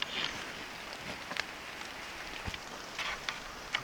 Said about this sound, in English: we all get hit by rain